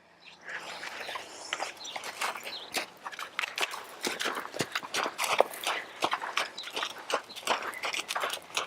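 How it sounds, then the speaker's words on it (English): A hunting horse canters with rhythmic, fairly close hoofbeats that repeat steadily throughout, and no one speaks. "Okay, we'll check out that canter."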